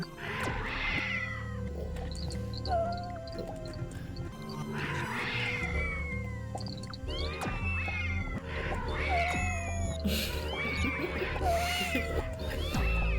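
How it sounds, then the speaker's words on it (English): Yowling, screeching cat noises from the game Braid rise over a droning musical background, several harsh cries clustered mid-way and toward the end, loud and close. "I like how they make these awful cat noises"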